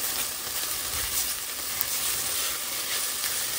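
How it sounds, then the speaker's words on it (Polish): Onion and garlic sizzling as they fry in a pan, a steady, close, crackling hiss that continues without a break and with no voices. "Chwilkę podsmażamy i dodamy czosnek."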